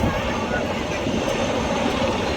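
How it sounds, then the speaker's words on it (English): A dense rumbling engine roar with a rhythmic beating texture persists throughout, steady and fairly loud, from a helicopter flying overhead at a Navy Day display. "now we are ready to talk about a peacekeeping helicopter being flown by Commander Yuvraj Kumar, Commander Rajesh"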